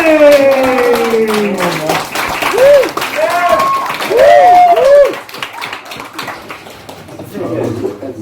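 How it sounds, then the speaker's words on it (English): Stand-up comedy crowd in Canterbury claps and cheers as a comedian is introduced, while the host speaks loudly over the applause, which thins out toward the end. "Clap your hands, Canterbury!"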